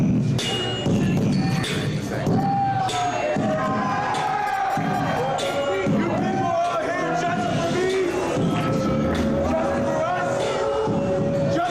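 At a packed wrestling show in Sacramento, the crowd cheers and shouts steadily for a referee, a dense, continuous roar with scattered yells and thumps, loud and close throughout.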